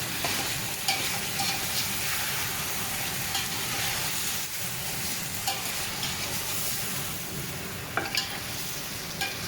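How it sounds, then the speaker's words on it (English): Pepper pot simmering on a stove is stirred steadily for the whole stretch, a dense close sizzle with scraping strokes and a few sharper clicks of the spoon against the pot. "Keep stirring."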